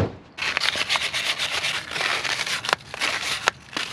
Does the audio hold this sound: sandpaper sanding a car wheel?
yes